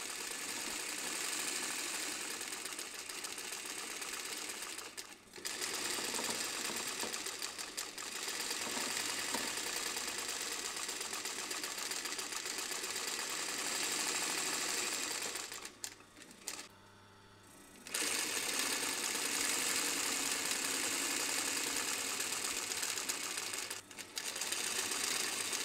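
A sewing machine stitches a line along the edges of leather, a dense continuous mechanical whir running near and loud, broken by a few brief pauses.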